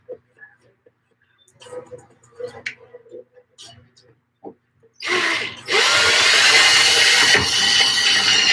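A DeWalt power drill widens a hole during model railroad work, starting with quiet handling clicks and faint talk, then a loud, steady, close whirring that runs to the end.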